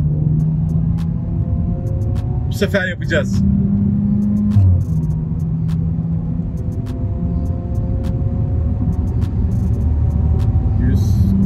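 A car engine revs hard while accelerating in manual gear mode, a loud steady droning rumble that builds, with people talking over it close by.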